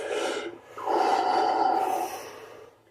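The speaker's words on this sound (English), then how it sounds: "Some people take like 10 breaths, like that, deeply in, let go." One deep breath in and out, a short airy intake followed by a longer, steady exhale, close and clearly heard with no talking.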